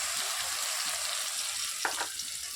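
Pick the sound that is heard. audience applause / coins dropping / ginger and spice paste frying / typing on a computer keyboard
ginger and spice paste frying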